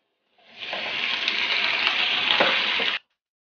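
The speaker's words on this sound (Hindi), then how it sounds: "अब मैं इसमें ही गोश्त डाल रही हूँ।" Meat hitting hot oil with onions in a pan for a chicken karela dish, a loud continuous sizzle that rises suddenly, holds steady for a few seconds with small pops, then cuts off.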